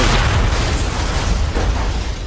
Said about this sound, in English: That was the explosion.